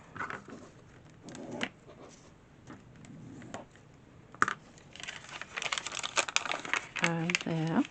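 A paper page for a spring journal is folded and creased by hand, making close, soft crinkles and sharp rustles that grow busier toward the end, with faint talk in the background.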